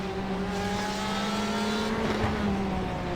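Race car engines accelerating in an iRacing GTE sportscar race at Mid-Ohio, a steady rising drone of several cars close together, with a faint tire squeal and a commentator's voice low underneath.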